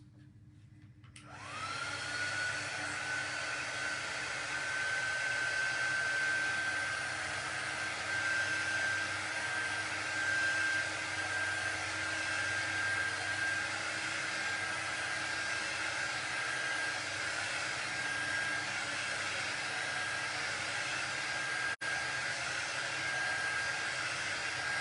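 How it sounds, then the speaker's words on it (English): A hair dryer switches on after a brief pause and runs steadily and loudly, a broadband blowing roar with a thin whine on top, continuous and alone, used on a craft piece meant for a campfire s'mores setting. "We're going to hit it with the air dryer."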